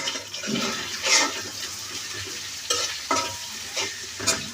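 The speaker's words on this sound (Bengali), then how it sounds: "20 মিনিটের মতন ভেজে নেব।" Dried fish (shutki) frying in a pan gives a close, steady sizzle, punctuated by louder scraping stirs every second or so, with no talking.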